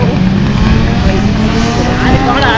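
Classic motorcycles race past at Jyllandsringen, a steady loud engine roar holding throughout with a rising whine late on, and voices murmuring underneath.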